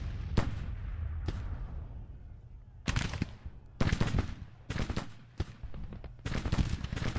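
Cannon blasts from Civil War artillery batteries in the strategy game Grand Tactician: The Civil War, with booming reports scattered across the battlefield, some overlapping into rolling volleys at close to mid range, loud against a constant low rumble.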